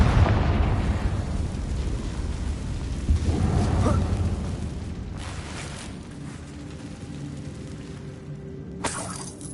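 Blasting-spell explosions in the Hogwarts Legacy video game, cast inside an abandoned mine, come as a loud burst near the start and another around four seconds, then a rumbling tail and a sharp crack near the end.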